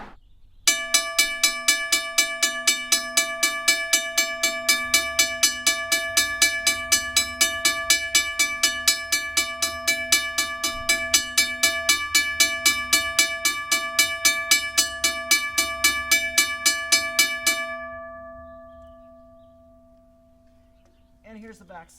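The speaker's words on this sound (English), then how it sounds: "Here's the sound of the bell." A restored railroad crossing bell, once rusted and now painted and mounted, rings in a fast, steady metallic clang for about seventeen seconds, then stops and its tone rings out and fades. No one speaks.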